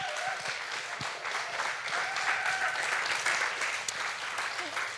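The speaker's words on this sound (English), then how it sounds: "Forget the points. Applaud the poets." An audience applauds the poets at a poetry slam regional final, a steady wash of clapping that holds at an even level for the whole stretch.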